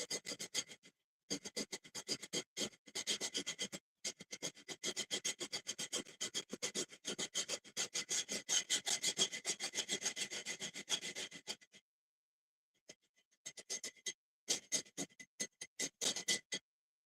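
Whole star aniseed being ground: dense, rapid scraping and crunching strokes in long bursts, close and fairly quiet, broken by a couple of short pauses and a longer gap near the end.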